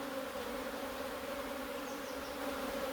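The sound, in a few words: honeybees buzzing around frames during hive inspection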